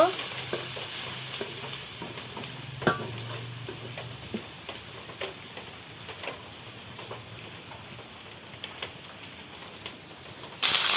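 Chopped onions fry in a pan, giving a steady, soft crackling sizzle. Scattered ticks and light taps of stirring recur throughout, and no one speaks.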